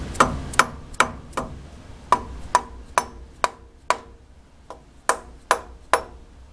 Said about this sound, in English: We're gonna take this dead blow hammer.